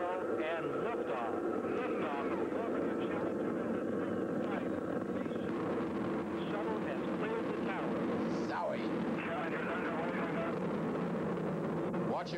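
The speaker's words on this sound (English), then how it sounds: "We have main engine ignition. 4, 3, 2, 1, 0, and liftoff." Space Shuttle STS-6 main engines roar at liftoff as a continuous, distant, rumbling broadband blast, heard beneath a commentator who talks throughout.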